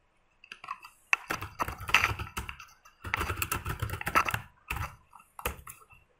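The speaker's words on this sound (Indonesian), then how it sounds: "lalu kita ketikkan kembali perintah dir flashdisk 2" Keyboard typing of commands in a Packet Tracer router and switch exercise, close and fairly quiet, coming in irregular bursts of quick clicks with brief pauses between them.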